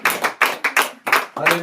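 A church congregation at a memorial service clapping, heard as a run of sharp, uneven bursts of applause, close and fairly loud.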